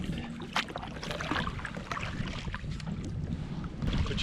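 Steady wind rushes past a kayak out in open water among mangroves, a continuous broadband noise with mic buffeting and faint water movement, no talking.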